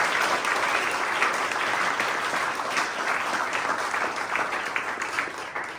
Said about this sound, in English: Round of applause for our MC,